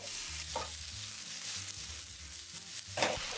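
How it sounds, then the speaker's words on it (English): Sliced pork for Japanese-style pepper steak stir-fried in a wok, with a soft continuous sizzle and a couple of distinct scrapes and tosses, close but fairly quiet, no voices. "Stir fry just until the pork turns opaque with light browning on the edges."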